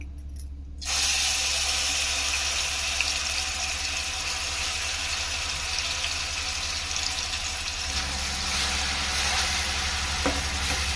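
Chopped onion frying in oil in a wide pan for a Telugu-style curry, a steady loud sizzle that runs the whole time, starting abruptly after a quiet first second, with occasional stirring scrapes and no talking.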